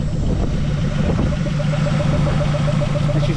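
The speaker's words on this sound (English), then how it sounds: "She's just sitting there idling by herself." A Mazda B2200 pickup engine idles on its own after twenty years off the road, freshly fitted with a new fuel system, giving a steady, close, even rumble with no talking over it.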